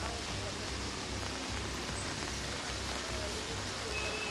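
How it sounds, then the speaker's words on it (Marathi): Steady rain in Mumbai hisses evenly throughout, a dense wash of falling drops with a faint low murmur underneath. "काही तासांच्या विश्रांतीनंतर मुंबईमध्ये पुन्हा एकदा पाऊस सुरू झालेला आपल्याला पाहायला मिळत आहे"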